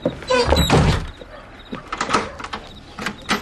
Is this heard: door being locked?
yes